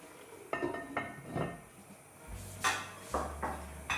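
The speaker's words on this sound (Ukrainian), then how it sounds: "Ну і ось зараз вже можна накрити кришкою." A lid set onto a pot of stewed cabbage, with quiet metallic clinks and clatters of cookware, several light knocks spread over a few seconds in a calm kitchen.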